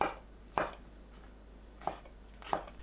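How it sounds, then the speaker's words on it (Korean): A knife cuts thinly through shiitake mushroom stems on a cutting board after their ends are trimmed: four crisp, separate chops spaced unevenly over a quiet background, with no talking. "대 끝부분은 잘라내고 얇게 썰어줍니다"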